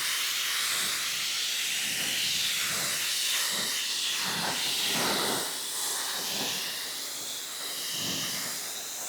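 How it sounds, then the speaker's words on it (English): A water rinse spraying over a car after a hydrophobic coating has been applied: a steady, close hiss of spray that swells and eases slightly as it moves across the body panels. "Now I can go through with a really nice rinse."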